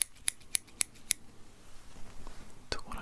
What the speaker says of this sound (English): I'm going to cut them with these very small, delicate, intricate scissors